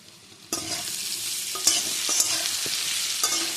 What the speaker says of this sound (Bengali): হলুদটা দিয়ে একটু ভেজে নিই।